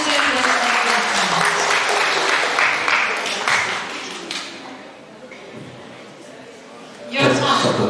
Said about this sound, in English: Give applause for the students.